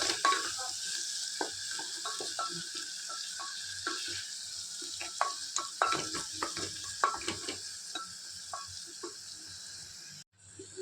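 Ground garlic and ginger paste fries in a pan with a constant close sizzle, punctuated by frequent scraping stirs. The sound cuts off briefly near the end.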